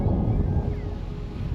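Strong wind buffets the microphone on the slopes of Mount Etna, a loud, steady low roar with no pauses.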